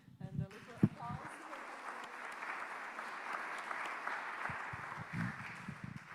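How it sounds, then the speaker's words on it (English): Audience applause after a talk on peace weaving and theater, moderate clapping from a modest crowd that swells and holds, with voices briefly heard at the start and near the end. "And a little applause."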